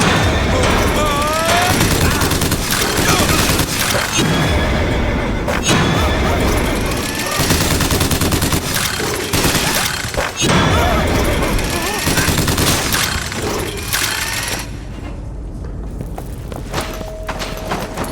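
Gunfire in BioShock Infinite, with loud, dense bursts of shots and booms over roughly eighteen seconds, mixed with footsteps and shouted voices.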